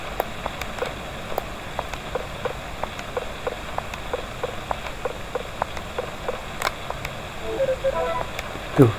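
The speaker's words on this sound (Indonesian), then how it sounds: "Kalau musim gugur ini guys, hujan juga." Steady rain falls in the video game Harvest Moon Friends of Mineral Town, a soft even patter with scattered drop ticks throughout, ending in a short brighter game sound.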